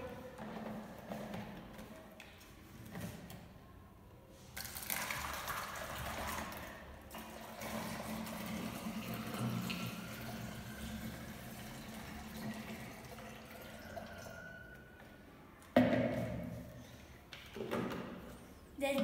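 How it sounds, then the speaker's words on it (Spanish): Water pours from a bottle through a funnel into another bottle, a soft gurgling, splashing flow that comes in several bursts at low volume, with short pauses between pours. "El primer paso es echar el agua en la botella."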